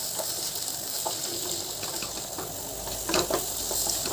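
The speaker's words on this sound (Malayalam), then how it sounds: "തക്കാളി ഇട്ട് അതെല്ലാം കൂടി ചേർത്തൊന്ന് മിക്സ് ചെയ്ത് വഴറ്റിയെടുക്കുക" Chopped tomatoes sauté in a pan for aval uppumavu, a soft, steady sizzle with a few faint scraping stirs, close and quiet, with no talking.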